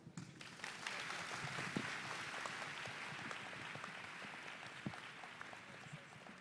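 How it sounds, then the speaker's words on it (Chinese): A large audience at a dialogue event with Dr. Jane Goodall claps in a sustained, even wash of applause lasting several seconds, heard from a distance at moderate level. "他值得我们再给他们一次的拍手"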